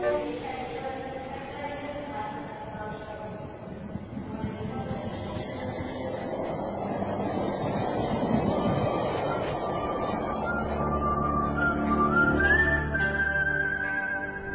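A train effect in a radio drama, a low rumbling rolling that swells and fades beneath a drawn-out, rising whistle near the end, continuous and moderately loud.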